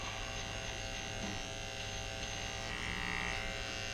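An electric hair trimmer with a straight zero, closed blade, buzzes steadily as it lines up a haircut, a constant close electric hum with slight changes in tone as it moves along the hairline.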